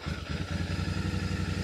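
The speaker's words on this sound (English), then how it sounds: "If I put the bike in neutral and start the bike," A Royal Enfield Super Meteor 650 motorcycle sits in neutral, its engine running at a steady idle with a close, even, rhythmic low throb and no voices over it.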